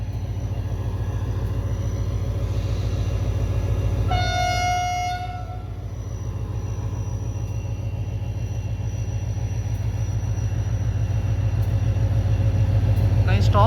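A train stops at a station, its low steady engine rumble droning throughout while a brief horn blast sounds near four seconds.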